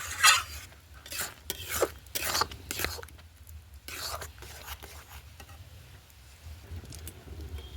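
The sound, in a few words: biscuit payesh (milk pudding) boiling in a pot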